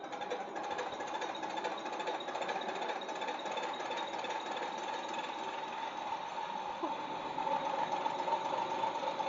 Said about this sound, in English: Now we will show you how to testing mechanical pumps on our MINI12PSB diesel injection pump test bench.